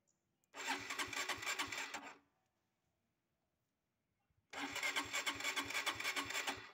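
A Honda CB GL motorcycle engine cranks over on the starter in two separate bursts of about two seconds each, loud and rhythmic, with a pause of silence between them.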